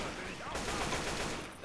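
Gunfire in Left 4 Dead 2 crackles as players shoot at police zombies, rapid shots layered over dense game noise, fairly faint and continuous, with voices talking in the background.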